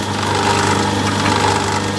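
A Myford ML7 lathe runs at its top speed of 800 rpm with a lapping wheel fitted, a steady close whirring hum with a constant motor drone and no breaks.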